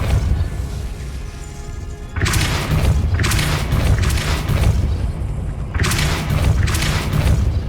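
Depulso spell blasts in the video game Hogwarts Legacy go off as booming thumps, one after about two seconds of quiet, then more heavy bursts in quick succession, loud and close.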